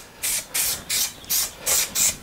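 A spray can hissing in six short, even bursts onto Dacron wadding on a dining chair being reupholstered, each about a quarter second, close by and fairly loud with brief pauses between.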